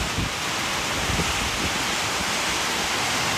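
Heavy rain pours down hard in Hinjewadi, a dense, loud, unbroken roar of water close by, with no talking.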